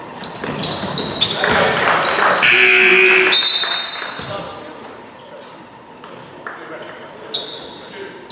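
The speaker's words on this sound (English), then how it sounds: "Why does the buzzer like go off like randomly?" A buzzer sounds in a basketball gym during a game against Central (Fresno), a sustained tone peaking mid-clip over crowd noise, squeaks and nearby talk.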